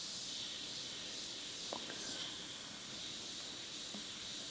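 Faint, steady hiss of an airbrush spraying paint in short on-and-off trigger bursts with light strokes over masked application tape, continuous and soft with no talking.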